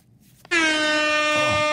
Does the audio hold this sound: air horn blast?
yes